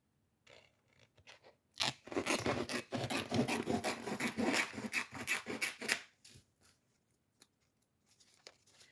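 Scissors cut through a piece of hotfix rhinestone sheet in a dense run of close rasping, scraping snips lasting about four seconds, with sparse clicks and light handling before and after.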